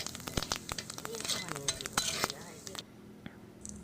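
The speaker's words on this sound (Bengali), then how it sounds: "এবার ওই তেলের মধ্যেই তেজপাতা আর কিছুটা জিরে দিয়ে ভেজে নিতে হবে।" Bay leaves and cumin frying in oil for shorshe ilish, a soft crackling sizzle broken by sharp clinks of a utensil on the pan, quiet and close, with the frying cutting off near the end.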